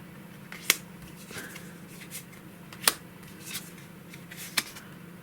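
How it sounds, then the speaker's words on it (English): Cards flicked one by one off the top of a Marvel Champions encounter deck onto a table, three crisp, close snaps spaced a couple of seconds apart, with faint rustling between them and no one talking. "I've got to do a discard from cards from the top of the encounter deck until a weapon attachment is discarded"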